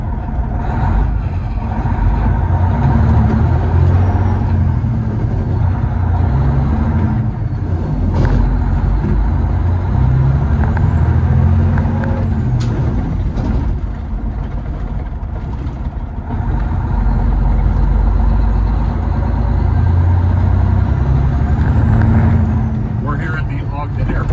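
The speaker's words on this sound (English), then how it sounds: "Oh, how I miss this truck." A Freightliner Coronado truck driving on city roads near an airport, its engine a steady loud low rumble throughout, with a brief high whine and faint airy hiss at times.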